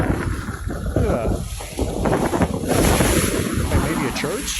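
Wind buffets an outdoor microphone at sea, with ocean waves surging and washing around a small house-like structure floating in open water, loud and continuous, while people talk over it.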